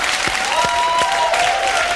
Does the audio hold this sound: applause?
yes